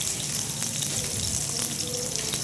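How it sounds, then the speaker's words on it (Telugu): Green chillies, ginger and garlic frying in hot oil for a tomato chutney, a steady close sizzle and crackle running evenly throughout with no talking. "దాంతోపాటుగా కొద్దిగా అల్లం, అదేవిధంగా వెల్లుల్లి తీసుకొని కొద్దిగా రెడ్ కలర్ వచ్చేంత వరకు కూడా ఫ్రై చేయాలి."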